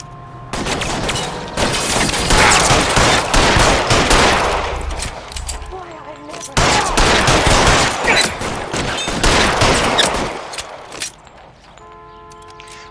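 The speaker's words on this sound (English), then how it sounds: "Fire a warning round." Sustained automatic gunfire in the L.A. Noire video game during a shootout with security men, with long loud bursts of rapid shots, a brief pause near the middle, then more firing that tails off into quieter ambience.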